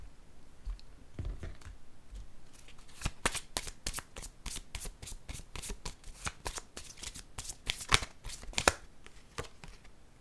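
Tarot cards are handled, shuffled and drawn close by, with a quick burst of crisp flapping riffles and sharp papery clicks, then brisker snapping shuffles. No one speaks.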